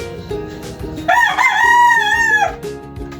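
A gamecock in a scratching pen lets out one loud, drawn-out crow close by, over steady background noise.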